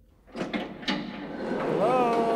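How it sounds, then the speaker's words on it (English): A door opens in the video game Garten of Banban 6 with a couple of scraping, thudding creaks that swell into a sustained tonal groan, a voice talking over it. "What happens if I open this door?"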